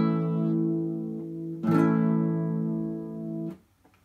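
A major chord strummed on guitar, a sustained harmonic chord that rings out, restruck once midway with a brief strum attack, then cut off just before the end; no voices.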